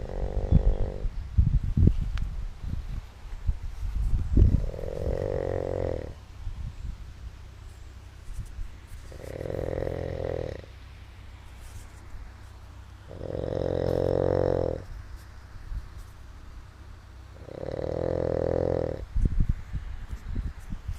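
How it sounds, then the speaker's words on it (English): A dog snores steadily through about five slow, rhythmic breaths spaced a few seconds apart, close and moderately loud over a low background rumble, with no one talking. "LeBrain, you snoring crazy."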